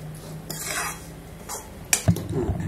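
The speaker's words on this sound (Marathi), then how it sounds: "तांबूस सुईपर्यंत भाजायचे आहेत त्या शेवया." Vermicelli being roasted and stirred in a pan: scraping sweeps of a utensil against the pan, followed by a couple of sharp clinks near the end, close and moderately loud with no talk.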